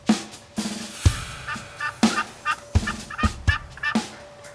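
Wild turkey gobbling during a youth turkey hunt, several loud rattling gobbles coming close and repeating every second or so, with no talk over them.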